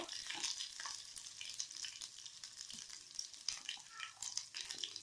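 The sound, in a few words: mustard seeds and cumin spluttering in hot oil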